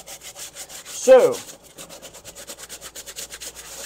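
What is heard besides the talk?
hand scrubbing a Tilley hat with soap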